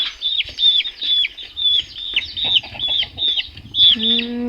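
A chicken calls close by in a rapid, repeated series of high, squeaky clucks, with a few lower notes at the end.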